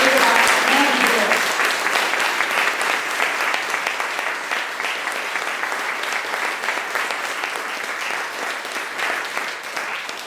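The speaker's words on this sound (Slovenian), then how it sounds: "Prosim za en velik aplavz" Enthusiastic audience applause at the closing event of an exhibition, loud and sustained, with a voice briefly audible at the start before the clapping fills the room and gradually softens.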